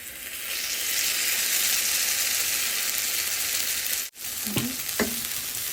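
Pancake batter sizzling in a small oiled pan, a steady bright frying hiss that holds throughout, broken near the end by a brief dropout and two light utensil taps.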